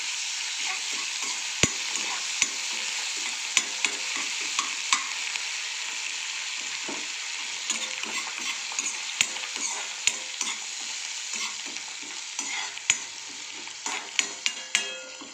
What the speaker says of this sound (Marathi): कोथिंबीर टाकलेली आहे चांगलं मिक्स करून घेऊया